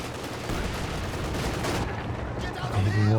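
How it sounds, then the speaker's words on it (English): Heavy mortar shells land in a Company of Heroes 2 battle, a continuous rumbling barrage of explosions with a swelling impact near the end, moderately loud and without talk. "Heavy mortar coming down now."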